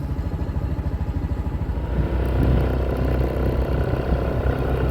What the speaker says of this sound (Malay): Jom kita tengok view naik motor dalam kebun